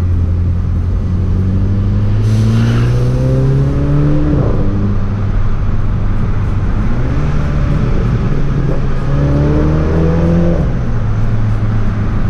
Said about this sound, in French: on va passer quand même dans le tunnel et au moins dans cette vidéo vous allez pouvoir écouter l'échappement